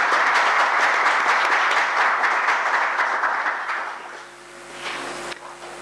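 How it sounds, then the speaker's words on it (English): Audience applause for a keynote speaker at a statistics conference address, a dense sustained roar of many clapping hands that holds steady for several seconds, then thins and fades toward the end. "I would simply ask for a round of applause again for our keynote speaker."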